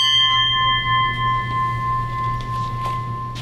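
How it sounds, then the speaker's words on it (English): A bell is rung once for ships still on patrol during a submarine veterans' membership meeting. A clear metallic ring holds steady across the whole stretch, with faint knocks and room noise beneath it and no talking. "Ring the bell one more time for ships still on patrol."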